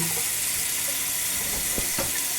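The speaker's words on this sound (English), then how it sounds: "turn the water on" Tap water runs for hand washing in a steady, close hiss, with a couple of light knocks near the end and no talk.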